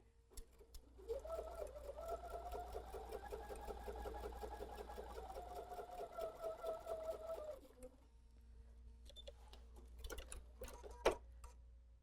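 A sewing machine stitches a table runner, whirring in a steady rapid rhythm for about six seconds, then stops, followed by quiet handling clicks and a sharp tap, close and fairly soft with no talking.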